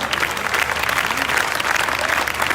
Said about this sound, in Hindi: प्रेज़ गॉड, जोरदार तालियां।